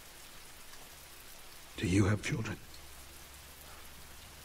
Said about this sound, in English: It's been, rainy out here.